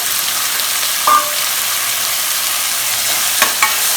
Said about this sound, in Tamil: தக்காளி ஒரு ரெண்டு தக்காளி பொடியாக கட் பண்ணி வச்சுருக்கேன் அதையும் போட்டுக்கலாம்